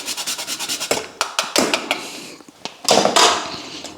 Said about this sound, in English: just a couple of grates of it.